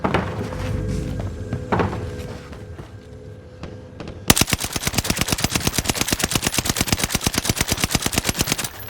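Sustained full-auto fire from the NZ-41 rifle in a video game, a steady fast string of sharp evenly spaced shots after a quieter stretch of softer thuds and scattered single rounds.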